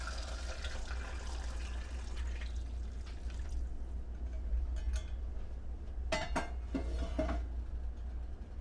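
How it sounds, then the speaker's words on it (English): Eight cups of water poured into a pot for cooking black eyed peas, a faint steady trickle and splash over a low hum, ending in a few louder clinks of the pot, no talk. "But now I'm going to add in my water."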